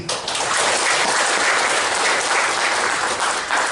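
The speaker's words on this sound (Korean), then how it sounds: "큰 박수 보내드립니다." A big round of applause fills the hall at a clan general meeting, a thick, continuous wash of many hands clapping at full volume throughout.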